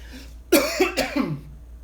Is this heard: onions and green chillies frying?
no